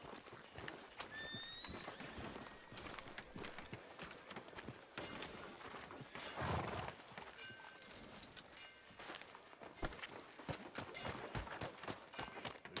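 Horse in the Red Dead Redemption 2 video game, hooves clip-clopping and a neigh or whinny heard amid busy in-game town ambience, moderately loud throughout.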